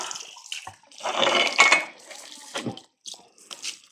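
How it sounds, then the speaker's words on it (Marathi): Water splashing and pouring into a bucket drawn from a well by rope over a wheel, in uneven gushes, close by, with brief pauses between pours. "ही बकेट अशी भरती बघा पाण्याने"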